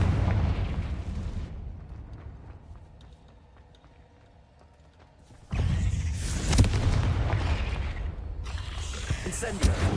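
A Confringo blasting spell explodes in Hogwarts Legacy, a loud, sudden boom at about 5.5 s that breaks a quiet stretch, followed by crackling blast noise and further bursts near the end.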